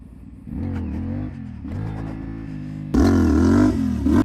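A CFMOTO 450SS motorcycle engine revs hard under throttle during beginner wheelies, rising and falling in pitch through several surges, then roaring louder and closer near the end.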